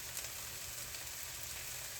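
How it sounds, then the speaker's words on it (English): Onions frying in a pan, a continuous even sizzle, close and moderately loud, with no talk. "So you can see now the onions are getting cooked."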